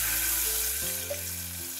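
Water poured into hot oil in a kadhai tempered with cumin, curry leaves, asafoetida, turmeric and red chilli powder sets off a steady close-up sizzle and hiss, with a low hum running beneath it.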